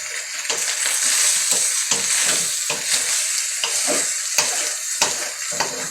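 Broccoli stir-frying with beef in a hot pan: a constant loud sizzle broken by repeated scraping and stirring strokes at an irregular rhythm, close up.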